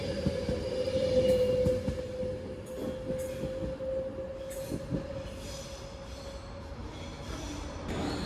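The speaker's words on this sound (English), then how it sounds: "The train now arriving into platform 1 is the 1757 London North Western Railway service to Stafford" A London Northwestern Railway passenger train rolls into platform 1 at Stoke-on-Trent station with a steady rumble and a sustained high wheel squeal, joined by clanks and brake hiss.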